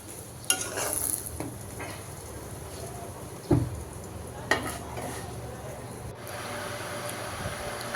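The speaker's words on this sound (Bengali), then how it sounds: "আর একটাতেই তো পরোটা ভেজে নিচ্ছি।" Eggs and paratha frying side by side in two pans, with a soft sizzle under occasional clinks and scrapes of a spatula against metal, close by and without speech.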